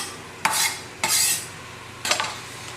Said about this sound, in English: might as well chop up some garlic